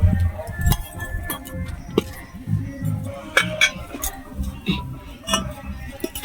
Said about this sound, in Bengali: প্লেটটা ঢাকা দিয়ে দিচ্ছি যাতে কোনো নোংরা না পড়ে।